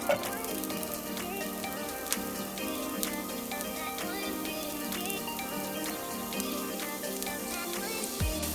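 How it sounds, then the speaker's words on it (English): Onions cooking in half a tablespoon of olive oil in a pan, a continuous soft crackling sizzle with scattered sharp pops and light stirring clicks, steady and close, no talking. "So I can add my onions, let it cook for a little bit"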